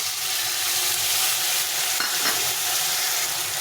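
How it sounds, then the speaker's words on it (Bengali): Ground spice paste sizzles and fries with tomatoes in a pan while being stirred, a close, steady crackling hiss with soft scraping, no voices. "এখন এই বাটা মশলাটা দিয়ে দিচ্ছি"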